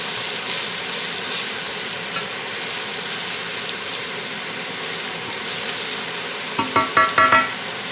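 Cajun trinity of chopped vegetables softening in a pan for shrimp étouffée, giving a loud, even sizzle throughout with a few sharp utensil clinks against the pan near the end.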